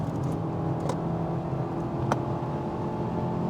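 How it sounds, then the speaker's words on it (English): A 2022 Mazda CX-3 with a naturally aspirated engine accelerates hard in sport mode: a steady, loud engine drone with road and wind roar heard from inside the car, plus a couple of brief clicks and no talking. "I will say this engine is very loud."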